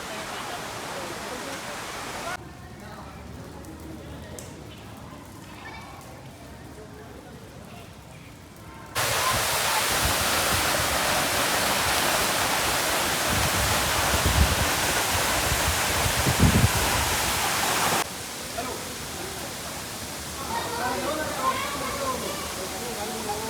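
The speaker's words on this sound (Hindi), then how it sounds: "इनके ऊपर से ये वाटरफॉल बह रहा है।" A waterfall pours over the tops of the first caves at Ellora, giving a continuous hiss and roar that swells much louder in the middle, with faint voices and birdsong in the background.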